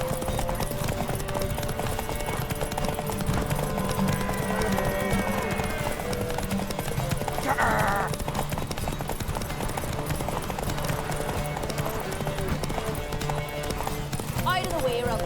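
Horse hooves clip-clop steadily through The Witcher 3 video game, a continuous rhythmic trot close by, with a brief neigh partway through, under game music and someone talking over the gameplay.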